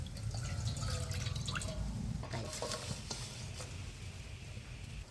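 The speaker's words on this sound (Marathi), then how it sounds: "थोडस वरण घ्यायचं एक वाटी पाणी घालायचं" Water pours and drips into jaggery in a cooking pot, a continuous splashing trickle with small drops and clinks, fairly quiet and close.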